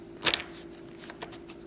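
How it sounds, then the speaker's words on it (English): A small deck of oracle cards being shuffled by hand: one quick riffling burst followed by a few softer card flicks, close and fairly faint, no talking. "I'm going to use these little cards. I'm going to shuffle a couple times."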